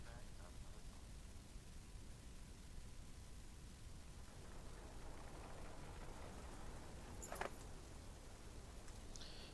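Steady rain falls in the video game Banner Saga 2, a constant soft hiss of drops on surfaces that stays even throughout, with one brief sharper crackle late on.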